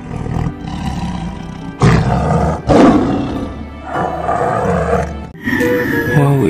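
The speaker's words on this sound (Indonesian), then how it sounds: "Wah, ini anak-anak harimau teman-teman." Tiger roaring in a children's animal video, several loud, close, drawn-out roars in a row, each with rough growling grunts between them, heard alone without speech.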